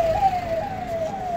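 Police sirens wail steadily from CM Yogi's arriving motorcade during the Ayodhya Deepotsav, a single rising-and-falling siren tone holding close and loud throughout with no talk.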